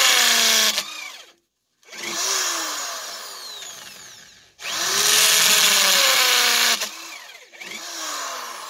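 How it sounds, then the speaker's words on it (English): A power drill bores holes through a tire in loud, sustained whining bursts, one separated by a short silence, then a rising second run and a third starting at the end. "I'm going to drill a couple holes on here"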